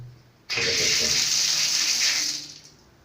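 Water gushes from a newly fitted washing machine tap once it is opened, a sudden loud steady hiss that runs about two seconds and then tapers off as the tap closes.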